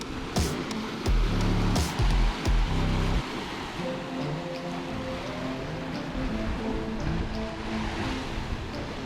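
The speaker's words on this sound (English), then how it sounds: "Waves have definitely picked up from when we started." Choppy Atlantic waves and rushing water around a board surfing in strong 30-knot winds, a continuous broadband roar with heavy wind buffeting and thumps early on, no talking.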